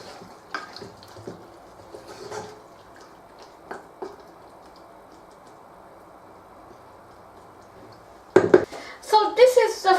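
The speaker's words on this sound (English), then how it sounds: "Just going to stir that in." Coriander being stirred into a goat curry with peas in a pot, with soft scraping and clinks of a spoon against the pot, mostly quiet, ending in a louder burst of clattering near the close.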